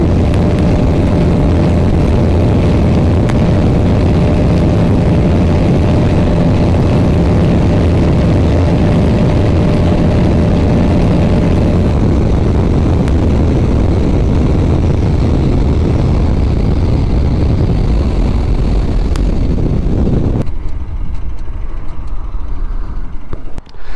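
A Bajaj Pulsar RS 200 BS7 at around 10,000 rpm in a drag race against a Suzuki V-Strom SX250, heard as a loud, steady, sustained engine drone with wind roar that cuts off abruptly near the end.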